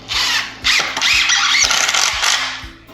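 Cordless drill driving screws into wood on a stairwell build, several quick whirring bursts with short stops and clicks between, loud and close.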